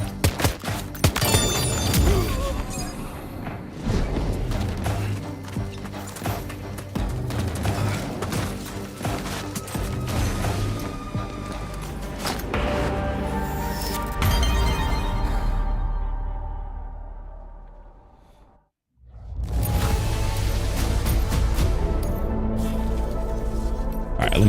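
Semi-automatic weapon fire in the video game Death Stranding 2: dense, rapid shots and impacts over game music, with a brief drop to near silence before the firing resumes.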